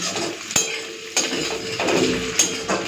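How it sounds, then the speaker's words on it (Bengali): Potato pieces fry in oil in a pan with a continuous sizzle, while three or four sharp metal knocks and scrapes of a spatula ring out against the pan. "তো আলুটা একটুখানি ভেজে নিই"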